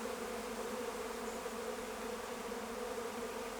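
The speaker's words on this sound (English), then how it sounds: "the actual swarming of a hive." A honeybee swarm leaving a hive, heard as a dense, continuous buzzing drone of many bees at a steady, moderately faint level with no talk.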